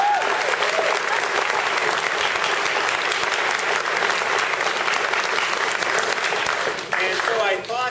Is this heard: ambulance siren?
no